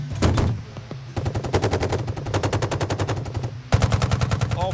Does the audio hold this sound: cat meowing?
no